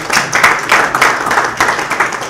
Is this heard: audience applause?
yes